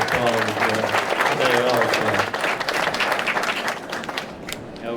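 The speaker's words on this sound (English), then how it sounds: "Let's give them a round of applause" An audience applauds at a civic chamber of commerce gathering, steady dense clapping sustained for several seconds while a voice talks over it near the start.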